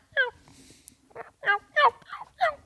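A hunting call imitates a gobbling turkey: five loud, near rattling gobble bursts spaced across a few seconds, with quiet gaps between them.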